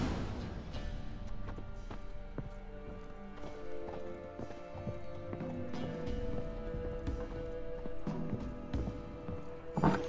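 Horse hooves clip-clop at a steady trot in The Witcher 3, a continuous rhythmic patter over game music and ambience, with a brief whinny-like rise near the end.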